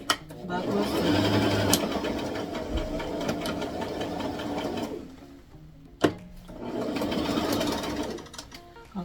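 Sewing machine running a backward stitch on a ribbon-trimmed tutu, a fast rattling mechanical whir in two bursts separated by a brief pause, close and loud, with thumps at start and restart.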